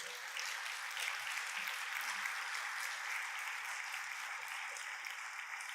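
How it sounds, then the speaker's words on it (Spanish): A church congregation applauds during a sermon in a steady, dense wash of clapping that holds evenly throughout. The sound is moderately quiet and slightly distant, with no voices over it. "Da un aplauso al Señor."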